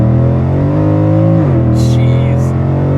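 A Mercedes C63 AMG fitted with a valved supercar exhaust in loud mode idles with a deep, steady rumble. Its pitch drops slightly partway through while a voice speaks briefly over it.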